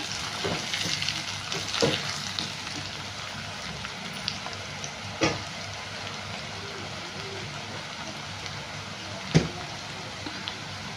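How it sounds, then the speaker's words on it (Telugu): Spiced masala paste frying in a pan for a potato fry, a steady sizzle with occasional sharper pops and stirring clatter, close and continuous throughout. "మనం ఫ్రై చేసుకుందాము పచ్చివాసన పోయే వరకు"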